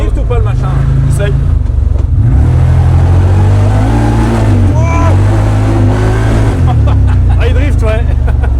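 A car engine revs hard and loud while the car drifts on a track, with rising and falling pitch close up and people talking over it.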